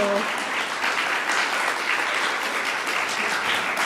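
A congregation at a Sunday morning service gives warm, dense applause, a loud continuous roar of many hands clapping together, close and sustained.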